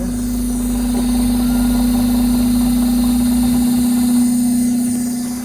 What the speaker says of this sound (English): you can tell by how bad the engine's running that our timing is now retarded